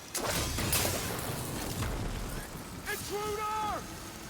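Deep rumbling booms and bursts from explosions in the video game Horizon Forbidden West fill the clip, followed by rising electronic tones, with a voice talking over them.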